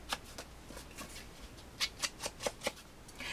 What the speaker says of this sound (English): I'm going to go sponge the edges.